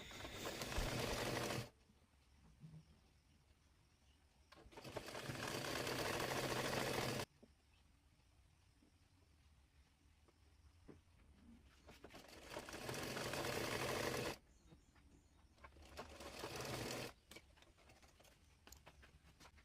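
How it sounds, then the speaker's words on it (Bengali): Sewing machine stitching lace onto a hijab, three loud bursts of fast continuous stitching separated by quieter pauses with faint handling of fabric. "এরপর লেসের উপর দিয়ে সেলাই করে নেব"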